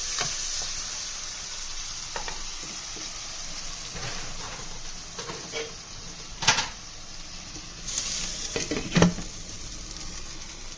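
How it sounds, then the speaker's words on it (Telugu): Onions salted and frying under a lid in a pan, a steady low sizzle with scattered pops and crackles and a couple of louder bursts, moderately quiet with no speech. "వేసుకొని ఒకసారి కలిపేసి మూత పెట్టుకుంటే ఆనియన్ చక్కగా ఫ్రై అయిపోతాయి"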